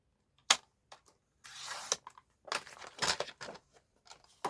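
Double-sided decorative paper being cut to size with scissors for a handmade envelope, a few sharp snips and short rustling slices in bursts, close and fairly quiet, with gaps of silence between.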